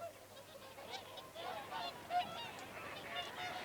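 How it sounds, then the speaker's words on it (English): Whooper swans call at Martin Mere in winter, a continuous chorus of honking, bugling notes from a large flock at middle distance, layered and overlapping without speech. "this place holds the biggest concentration of hoopers, the birds which come from Iceland"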